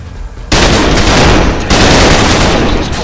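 Gunfire in the video game Trepang2 on PS5: loud, continuous automatic weapon bursts erupt after a brief quiet lead-in, dense and sustained with a short break midway.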